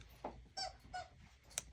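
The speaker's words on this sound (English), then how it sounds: "she has her squeaky toy" A dog's squeaky toy squeaks in a run of short, close squeaks, three to four evenly spaced chirps over a faint background hum.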